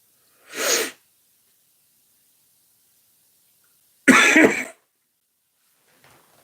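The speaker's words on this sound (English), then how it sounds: "Why am I coughing?" A person coughs twice, two sharp close bursts about three seconds apart with silence between, the second longer and harsher.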